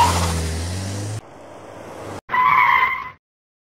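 Car tires skid in a loud sustained screech lasting about a second, followed by a quieter rumble, a brief gap, then a second bright, tonal squeal for nearly a second before silence.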